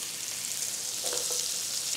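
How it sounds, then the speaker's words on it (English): Carrots, onion and celery brown in rendered fat in a skillet, giving a dense, steady sizzle with a faint stirring scrape near the middle, close and unbroken by speech. "Now I need to brown the mirepoix, the carrots, onion, and celery. Do that right in the same skillet."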